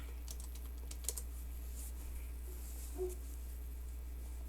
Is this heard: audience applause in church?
no